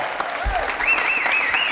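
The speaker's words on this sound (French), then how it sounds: "applaudissements pour ces jeunes gens, mesdames, messieurs" A French television studio audience applauds young performers, dense steady clapping that fills the whole stretch while a bright warbling tone sweeps above it.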